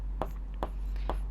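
Chalk or marker strokes on a board during a Hindi-language Class 10 maths lesson on linear equations, three short scratchy bursts spaced evenly apart over a steady low hum.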